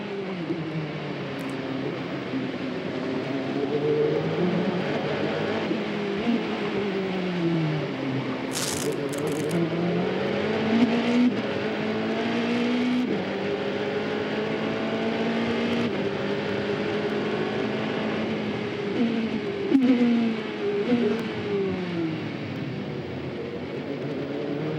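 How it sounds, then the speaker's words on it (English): An Audi race car engine at the 2002 ALMS race in Trois-Rivières drones steadily and loud, its pitch rising and falling through gear changes and corners over a sustained stretch, with brief rattles. "Let's take a listen to this race car."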